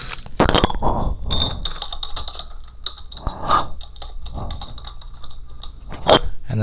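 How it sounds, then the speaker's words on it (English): A microphone rubs and knocks against a mouth, giving scattered close crackles, thumps and clicks in irregular bursts, with no talking. "that sound you're hearing, that sounds like the microphone going in my mouth"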